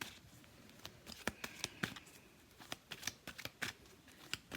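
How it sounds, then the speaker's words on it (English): Playing cards being shuffled by hand, a run of crisp riffling snaps and flutters at close range with no talking. "I just want to shuffle some more"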